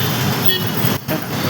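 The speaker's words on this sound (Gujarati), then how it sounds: "જોઈ શકો છો આવી રીતે ટ્રાફિક" Nighttime city road traffic in Ahmedabad, a steady broadband roar of passing cars and motors with horn toots sounding through it, and a brief dip in the noise near the end.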